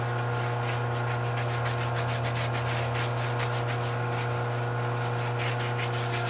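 A brush rubs in steady, rapid strokes against the wheels of a 2013 Ford Raptor truck during a wash in a dedicated wash bay, a continuous close scrubbing hiss under a low steady hum.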